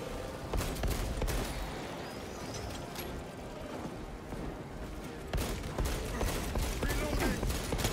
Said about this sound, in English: Let's use the heavy bolt pistol.